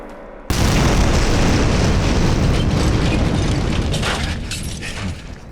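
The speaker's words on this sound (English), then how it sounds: "It's a beautiful explosion." A building is blown up by a demolition charge after a countdown: a sudden, very loud blast erupts from near silence and rolls into a sustained, broadband roar of collapse and debris that fades slowly over several seconds.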